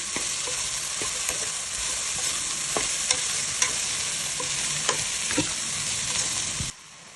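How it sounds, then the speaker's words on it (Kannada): Vegetables with curry leaves, green chillies, ginger and garlic stir-fry in hot oil for pulao, a steady loud sizzle broken by sharp scraping and clacking strokes of a spoon or spatula, ending abruptly near the end. "ಶುಂಠಿ, ಬೆಳ್ಳುಳ್ಳಿ ಎಲ್ಲ ಹಾಕಿ ಎಲ್ಲ ತರಕಾರಿ ಹಾಕಿಬಿಟ್ಟು ಮಿಕ್ಸ್ ಮಾಡ್ಕೊಳ್ಳೋಣ."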